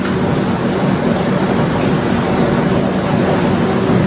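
Howrah–Pune Duronto Express standing at a station: a steady, loud broadband rumble and hiss of the train and platform, continuous and even, with no voices heard.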